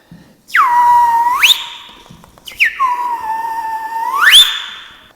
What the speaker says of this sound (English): then I whistle and you wake up